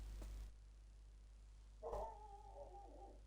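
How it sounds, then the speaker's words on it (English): A dog gives a faint, drawn-out whining whimper lasting about a second, after a brief soft thump, over a steady low background hum. "Oh, hello, dog."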